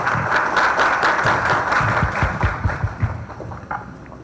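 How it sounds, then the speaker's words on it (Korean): Audience at a World AIDS Day seminar gives warm applause to welcome a speaker to the podium, a dense burst of clapping that thins into scattered claps before fading out. "따뜻한 박수로 맞이해 주시기 부탁드립니다"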